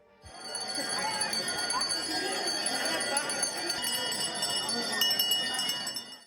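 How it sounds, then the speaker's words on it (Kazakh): A school's first bell rings at a ceremony, a steady bright metallic ringing that carries on for several seconds amid crowd noise and scattered voices. "Одан кейін оқушылар асыға күткен алғашқы қоңырауда соғылды."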